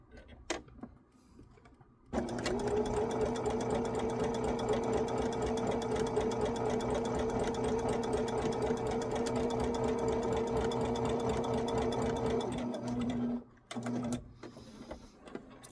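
A sewing machine runs a steady quarter-inch seam in one continuous, even whirring buzz lasting about eleven seconds. Brief handling noises come before it starts, and it cuts off with a short stutter before stopping.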